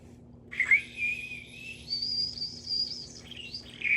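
Warbling trills from a plastic bird whistle filled with water, blown close up in several sustained bird-like phrases with short breaks, rising and falling in pitch against a quiet hum.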